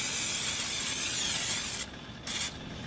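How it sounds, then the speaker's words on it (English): A loud continuous aerosol spray of butter cooking spray (Pam) hisses close up onto a hot pan, cutting out briefly, then giving one more short burst before stopping. "I'm gonna spray this Pam butter spray"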